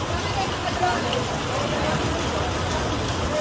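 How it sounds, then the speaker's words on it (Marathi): Dense, steady hiss of heavy rain pours throughout, loud and close, with a faint murmur of voices blended into the noise. "पाऊस जोरात चालू आहे"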